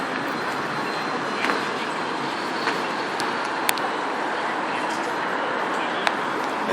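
Steady rumble and hiss of a tram riding through Helsinki, Finland toward the central train station, with faint clicks and rattles over continuous broadband noise.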